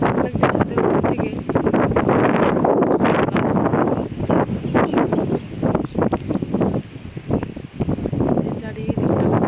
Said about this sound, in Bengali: চারিদিকটা কত সুন্দর হাওয়া